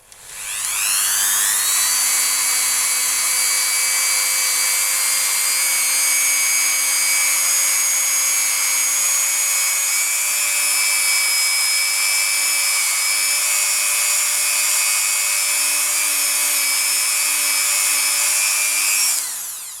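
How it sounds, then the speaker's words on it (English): A Dremel rotary tool fitted with a buffing wheel spins up into a loud, steady high-pitched whine while buffing polymer clay. It holds the same pitch for about eighteen seconds, then winds down. "So now I've just got a Dremel over here with a buffing wheel, and I'm just going to give this a buff."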